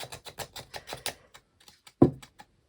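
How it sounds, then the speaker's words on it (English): Scissors scrape around the edges of a small laser-cut diamond painting container, a rapid series of close, sharp ticking scratches followed by a few sparse clicks and one louder knock. "Let's just get some scissors and give it a bit of a scrape around."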